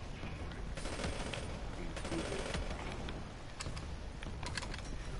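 Rapid bursts of PPSh submachine gun fire in Black Ops 3, a fast rattling fusillade with clicking, under a dense, noisy game soundscape, heard fairly faint.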